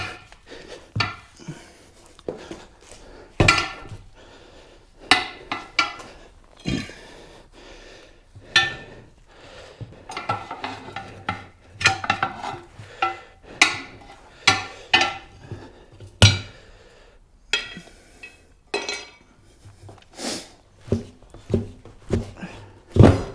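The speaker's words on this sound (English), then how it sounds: "We should be able to lever here because we're not on the face levering." Metal tyre levers pry a tyre off an alloy rim, giving a long run of irregular knocks, clanks and scraping thuds at close range, some sharp and loud, with quiet pauses between efforts.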